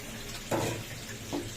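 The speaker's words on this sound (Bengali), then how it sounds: "এখন আমরা গরম পানি ঢেলে দেবো, পরিমাণ মতন পানিটা দিবেন" Hot water poured into a cooking pot in two short splashing gushes, close and moderately loud, with a low background hiss between them.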